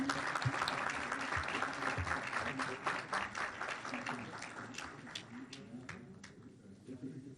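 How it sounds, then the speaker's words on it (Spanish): An audience applauds at an environmental event about the endangered Araucaria araucana tree, a moderate burst of scattered clapping that thins out toward the end, with some voices talking beneath it. "Un aplauso, por favor."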